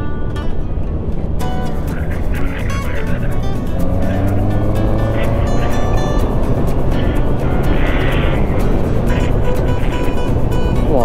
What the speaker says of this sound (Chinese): 我耳机就听到你们在灌油门的声音